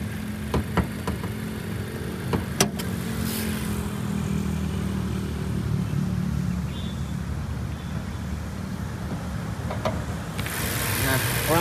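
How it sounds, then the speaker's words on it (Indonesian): A car engine idles smoothly and steadily in the engine bay, a continuous low hum that stays fairly quiet with a few light clicks and knocks over it. "Mesinnya halus ya, tidak terlalu bunyi."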